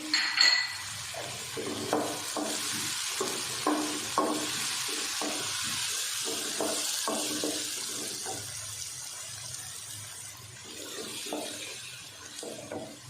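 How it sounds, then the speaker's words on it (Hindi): Tomatoes, green chillies and other vegetables frying in a pan for an Afghani omelette, a steady soft sizzle with repeated scraping and stirring knocks of a utensil against the pan, fairly quiet and close, with no talking. "इसको भी साथ साथ हम फ्राई करते जाएंगे"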